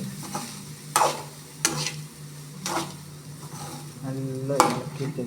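A rice mixture stirred thoroughly in a pan, the spoon scraping and knocking in several distinct strokes over a soft, steady sizzle, close and fairly loud.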